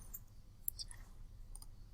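A single sharp mouse click on the new post button in the Weebly site editor, quick and faint in a quiet room.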